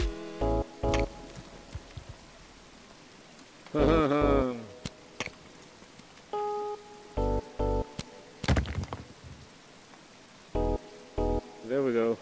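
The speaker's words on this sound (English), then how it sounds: "Rain definitely makes a difference." Rain falling in the Stacksquatch VR video game: a soft, steady patter underneath, broken by louder, sharp game impacts and tonal effects, with brief bits of voice.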